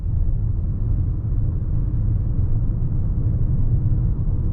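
A 2021 Toyota Venza Limited hybrid driving in sport mode, a steady low road rumble and muffled drivetrain hum heard from inside the cabin, smooth and constant without distinct revving.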